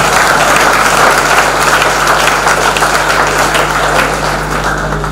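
An audience at a Hindi poetry gathering, a kavi sammelan in Shrawasti, breaks into dense, sustained applause, loud and continuous from start to finish, with no voices over it.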